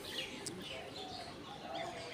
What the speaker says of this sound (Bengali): অসংখ্য শালিক পাখি ট্রেন লাইনে উড়াউড়ি করছে